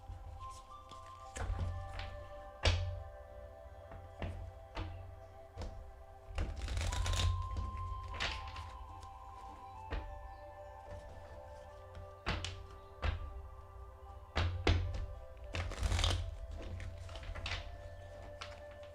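Tarot cards are shuffled, drawn and set down with soft slaps and thuds, close up, irregular handling sounds over a low steady hum.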